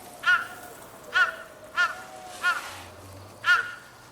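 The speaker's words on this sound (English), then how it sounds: "A crow. She has a lot to say." Crow cawing in the Ghost of Yotei video game: five distinct, evenly spaced harsh caws, fairly loud and close, standing out over a quiet windy background with no talk.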